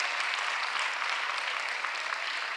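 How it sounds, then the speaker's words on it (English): Steady, dense applause fills a hall for Governor Josh Shapiro at the Philadelphia State of the City address, unbroken throughout. "huge round of applause"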